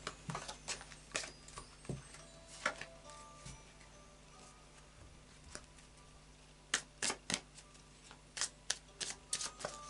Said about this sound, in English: I'll just do a final shuffle of the Moonology cards